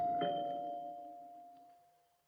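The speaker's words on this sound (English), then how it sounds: "I don't think that doorbell took the first time" A single electronic chime rings once and its steady tone lingers, slowly fading over a couple of seconds with nothing else around it.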